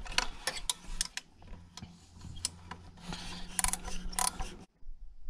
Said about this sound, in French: avec une douille de 13, on vient donc détendre le galet